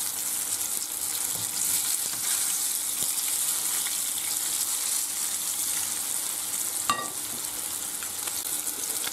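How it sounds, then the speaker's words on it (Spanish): Hake fillets fry in a pan with a continuous bright, hissing sizzle throughout, steady and close, with one brief clink of a utensil. "Ya está bien frito por los dos lados y lo metemos en la fuente."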